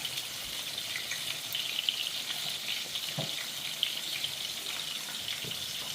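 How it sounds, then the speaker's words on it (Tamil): Steady, fine crackling sizzle of fish frying in hot oil, continuous and close, with a few soft clinks and no talking. "இந்த மீன் கலந்து ஒரு 5 நிமிஷம் 10 நிமிஷம் பொரிக்கணும் நல்லா."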